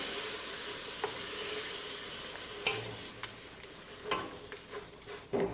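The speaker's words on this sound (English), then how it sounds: "So I begin by melting some butter." Butter melting in a pan, a soft continuous sizzle with faint crackles and a few sharp clinks and scrapes of a utensil stirring toward the end; close and moderately quiet, no voices.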